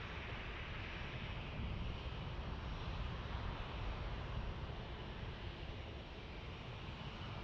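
A United airliner passes an airport in San Diego as a broad, steady jet roar that holds at a constant level throughout, slightly washed by wind noise on the microphone.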